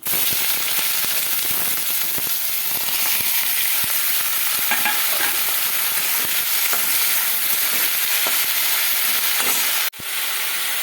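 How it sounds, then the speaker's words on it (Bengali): Chopped vegetables and black cumin seeds hiss loudly in hot oil, a dense, constant sizzle with scattered pops that cuts off abruptly near the end. "তেলটা গরম হয়ে গেছে, দিয়ে দেবো কালো জিরে ফোড়ন। আর কেটে রাখা সবজিটা দিয়ে দেবো।"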